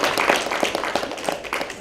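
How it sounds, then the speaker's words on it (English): Audience applause at a Robert Smalls event, steady clapping from a crowd close by, continuous and even for a couple of seconds. "Can we give Mr. Green a round of applause"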